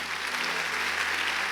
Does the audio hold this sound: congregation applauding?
yes